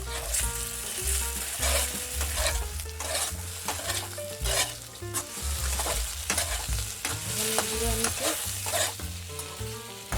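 Brinjal slices fry in hot oil with chilli and a little sugar, a steady loud sizzle broken by repeated scraping stirs of a spatula, with no talk.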